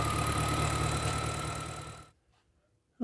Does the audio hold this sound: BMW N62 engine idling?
yes